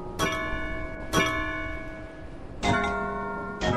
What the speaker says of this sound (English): Stop with the bell, you freak.